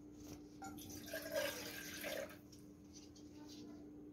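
Water is poured into a pan while making cheese bread dough, a faint splashing trickle that swells for about a second in the middle over a steady background hum.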